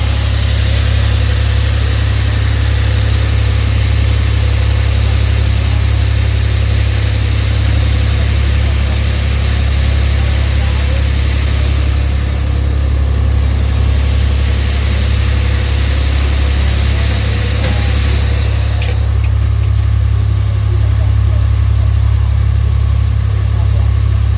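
Marine diesel engines running on the fishing boat Sea Angler at Bodega Bay, a steady loud low rumble and drone throughout with no change in pace.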